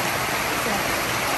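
Rain falls steadily, producing a dense, even hiss of broadband noise with no breaks, loud and close throughout a short stretch.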